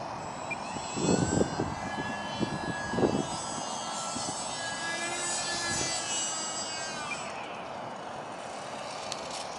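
A UMX Timber ultra micro RC airplane flies outdoors in wind, its tiny electric motor giving a high, whining buzz that rises and falls in pitch as it passes, with gusty wind rumble and a few thumps underneath.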